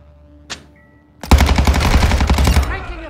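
Automatic gunfire in the Call of Duty DMZ video game, a brief faint click, then a loud, rapid sustained burst of shots lasting nearly two seconds, close and punchy.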